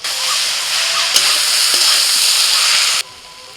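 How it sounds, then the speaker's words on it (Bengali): Vegetables frying in a pan are stirred, giving a loud continuous sizzle and hiss with a couple of faint scrapes, cutting off sharply near the end to a quiet hush. "ঢাকাটা খুলে একটু নাড়াচাড়া করে দেবো"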